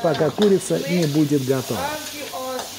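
Chicken frying in boiling oil in a wok over a gas flame at a Thai cooking class in Chiang Mai, a soft sizzle running under someone speaking Russian.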